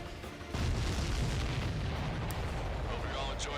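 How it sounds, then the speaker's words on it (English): A missile strikes a supply ship in Ace Combat 7, a sudden loud boom at half a second that gives way to a sustained roaring rumble and crackle of the blast, with game voices talking over it. "The missile hit the supply ship dead on."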